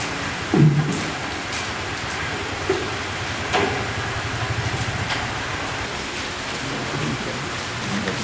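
Heavy rain pours steadily over an outdoor stage play, a dense, continuous hiss with a few louder splashes or knocks near the start and no voices.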